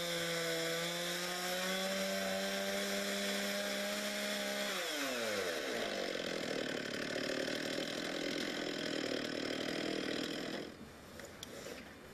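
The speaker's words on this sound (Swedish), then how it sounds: "Lägg första sågsnittet mitt i märgen, men såga inte helt igenom stocken." A Logosol Solo M7 chainsaw mill roars steadily as it cuts a lengthwise slab through the pith of a log, the engine pitch dropping under load, then the cut winds down short of the log's end.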